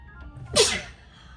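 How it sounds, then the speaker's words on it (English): One sharp, close sneeze bursts out from a person with makeup powder in their nose, building briefly and then fading quickly. "I cannot stop sneezing."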